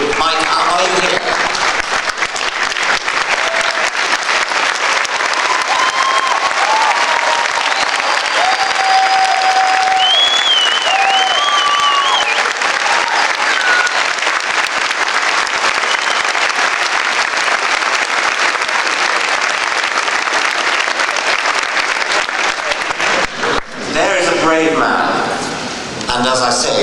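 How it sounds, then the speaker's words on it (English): A large lecture audience applauds at length to honor a pastor who has been asked to stand, with dense steady clapping, scattered whoops and voices mixed in, ending abruptly near the close. "I would like to ask Pastor Mike House to stand up and be honored by this crowd"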